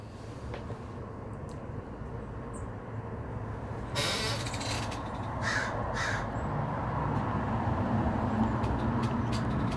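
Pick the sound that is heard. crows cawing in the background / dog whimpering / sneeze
crows cawing in the background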